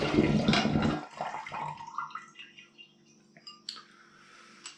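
Liquid is poured into a watermelon and raspberry fruit must for cider, a loud gushing splash at first that fades into gurgles, trickles and scattered drips nearby.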